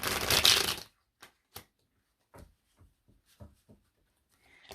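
A burst of tarot cards being shuffled, a dense riffle of about a second. Scattered soft taps and card flicks follow in a quiet room, and no one speaks.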